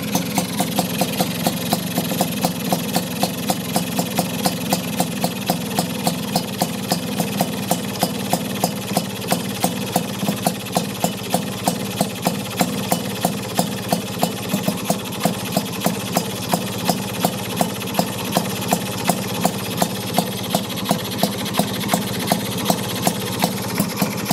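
A two-stroke engine idles at very low speed, a steady close rhythmic putter of evenly spaced firing pulses that continues without a break and without speech.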